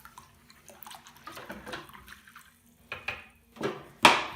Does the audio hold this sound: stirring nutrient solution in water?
yes